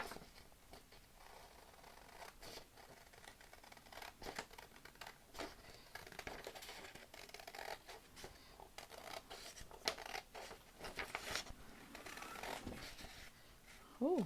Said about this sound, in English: We're gonna cut our template out.